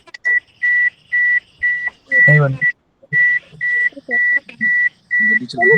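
About ten short electronic beeps at one steady pitch repeat in a regular on-off pattern during an online call, with brief bits of talk and background noise between them.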